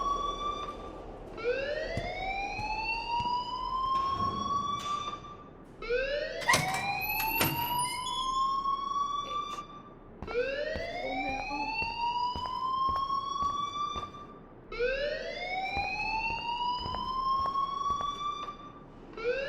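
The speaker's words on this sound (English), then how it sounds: "please turn off that alarm since that's your job" Rising electronic alarm in the video game Life is Strange, sweeping upward in long repeated wails about every four seconds, loud and steady, with a brief clatter partway through.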